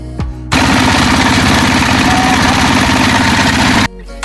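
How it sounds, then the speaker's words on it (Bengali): A trawler boat engine on a canal at Lalakhal, Jaintiapur, Sylhet roars up suddenly, running loud, close and steady with a dense mechanical chug for about three seconds before cutting off sharply. "এই তো ট্রলারে উঠে গেলাম আমরা"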